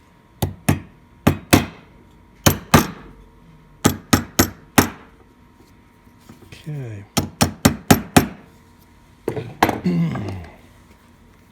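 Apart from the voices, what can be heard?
hammer tapping an antique mortise lock part on a bench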